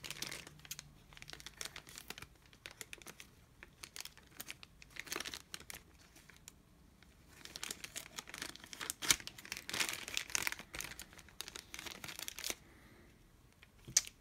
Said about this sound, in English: Let's go ahead and remove the rocket from the packaging.